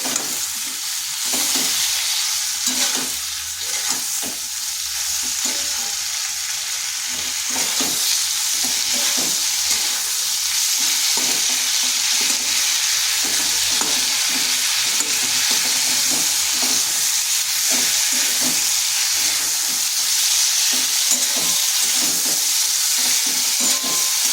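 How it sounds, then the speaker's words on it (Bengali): Fried pointed gourd being stirred in a frying pan, a steady loud sizzle with continuous scraping spatula strokes throughout, close up and without any talk. "দিচ্ছি ভেজে রাখা পটলটা। ভালো করে মিশিয়ে নিচ্ছি।"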